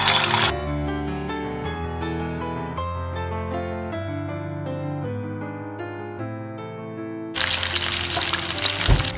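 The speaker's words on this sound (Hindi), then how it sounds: "चलिए अब हम चिकन को करते हैं फ्राई।" Music plays for most of the stretch, then chicken hits very hot, lightly smoking mustard oil and a loud, dense, close sizzle takes over for the last two seconds.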